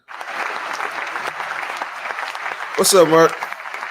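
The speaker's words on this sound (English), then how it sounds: "I was waiting for the long applause to end." A studio audience applauds loudly to welcome a guest, a steady roar of clapping that runs throughout, with a voice briefly greeting someone over it near the end.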